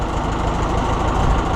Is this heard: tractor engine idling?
yes